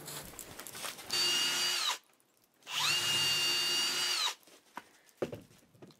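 A power drill bores pilot holes into a wooden block in two close, loud whirring bursts, each under a second long, followed by light knocks and handling sounds.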